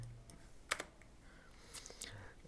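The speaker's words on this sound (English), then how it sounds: "now type here your username" Quiet keyboard typing while filling in an account sign-up form, a few scattered key clicks and short bursts, faint and close against low room noise.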